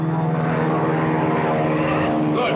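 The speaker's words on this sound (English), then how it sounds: "that plane was carrying Henry Blake!" A propeller airplane drones in a 1937 film serial, a loud, steady buzzing engine hum with a throbbing low pitch that runs throughout with no talk.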